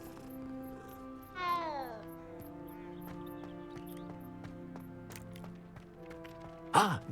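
A cat in the Hogwarts Legacy video game gives a single short rising meow, set against steady tonal game music, with a second brief cry near the end.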